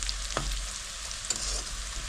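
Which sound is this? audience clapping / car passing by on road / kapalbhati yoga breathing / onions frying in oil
onions frying in oil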